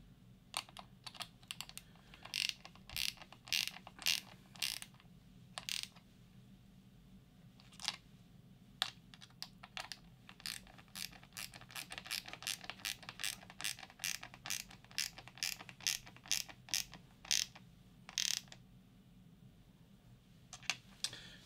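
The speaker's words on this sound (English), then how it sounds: "So I'm just going to tighten this up and just see how we go." A hand ratchet tightens a terminal bolt on a LiFePO4 battery cell, giving quick, quiet bursts of clicking that repeat through the stretch with short pauses between strokes, close by and without talk.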